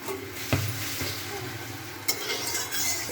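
Oil heats in a kadai for chowmein with a soft, continuous sizzle, broken by a few sharp clinks of a utensil against the pan. No one speaks.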